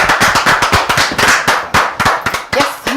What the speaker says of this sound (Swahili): tumahorera makofi